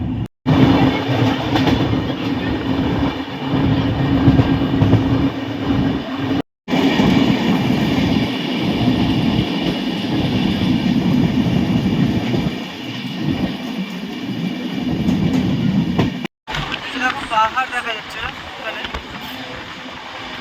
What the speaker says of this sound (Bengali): ট্রেন কিন্তু দারুণ টানছে